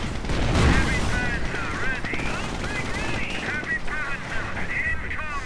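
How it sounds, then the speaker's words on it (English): Strafing gunfire from a Henschel attack aircraft rattles through a video game battle, a dense sustained burst of rapid shots mixed with chirping battle noise, loud and continuous, with a voice partly audible underneath. "We are seeing Henschel strafing rounds going in as well."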